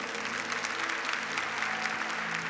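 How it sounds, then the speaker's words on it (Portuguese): A church audience at a Catholic Livrai-nos do Mal 2018 camp gathering applauds steadily, a dense, sustained wash of clapping filling the room with no break. "Pode aplaudir essa certeza."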